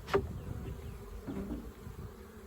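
Honey bees at a beehive during a spring hive check: a steady, close buzzing hum with a sharp louder pass at the start, no voices.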